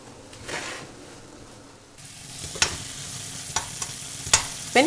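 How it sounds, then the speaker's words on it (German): Turkey strips sear in a very hot pan with a steady sizzle and frying hiss, broken by a few sharp pops and crackles near the end. "Pfanne wirklich heiß sollte sie sein. Und dann werden wir uns das Fleisch anbraten."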